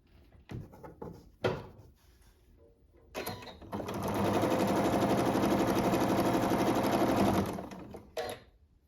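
A sewing machine runs in one steady, close, rapid whirring burst of about four seconds while stitching a friendship star quilt block, with soft handling clicks and fabric shuffling before and after.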